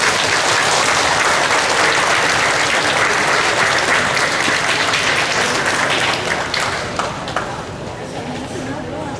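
Festival crowd applauding the mayor at the Hmong Wausau Festival, a loud, dense wash of clapping that runs steadily throughout and eases slightly toward the end, with some voices mixed in.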